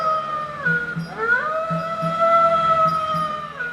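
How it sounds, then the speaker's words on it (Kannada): Jackals howling eerily in a dramatised Ramayana stage scene, a few long wavering rising-and-falling howls layered over one another, loud and sustained against a low rhythmic musical backing. "ನರಿಗಳು ವಿಕಟವಾಗಿ ಕೂಗುತ್ತಿರುವವು."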